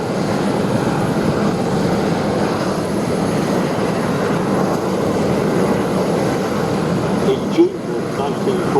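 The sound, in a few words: Miles Magister aircraft engine flying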